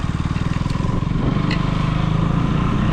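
A KTM Duke 200 motorcycle riding along, its engine giving a steady, close, throbbing drone with a rapid regular pulse and no pauses.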